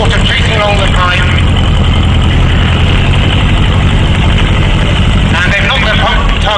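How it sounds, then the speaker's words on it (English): A loud, steady engine drone runs throughout, a piston-engine-driven trailer water pump chugging nearby at a steam rally with voices partly audible over it. "using a piston engine to suck the air out to get water in"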